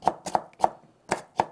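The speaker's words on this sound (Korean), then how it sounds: "칼질을 할 때 뒤에다가 힘을 주고" A knife chops pickled radish on a cutting board in six sharp, separate strokes with uneven gaps between them, close and crisp, with no talking.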